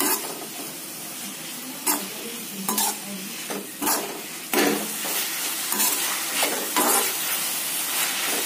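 Maggi noodles with chili and Schezwan sauce are stirred in a hot pan, a steady sizzle broken by several louder scraping tosses of a spatula, close and with no talking.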